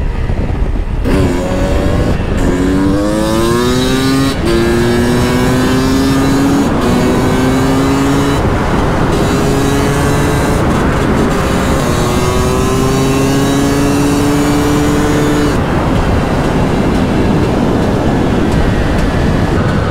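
A 300 TPI two-stroke supermoto motorcycle engine revving hard and close, climbing through a series of rising gear pulls with a raspy buzzing tone, loud and continuous for the whole stretch.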